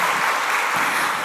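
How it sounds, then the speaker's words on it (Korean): A church congregation at a Friday prayer meeting claps for the praise team, a brief, dense and loud burst of applause with no talk over it. "우리 박수 한번 쳐드릴까요?"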